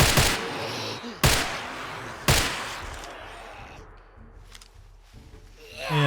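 Single shots from a .45 pistol in 7 Days to Die, three sharp reports spaced about a second apart with fading tails, followed by quieter ambient rumble.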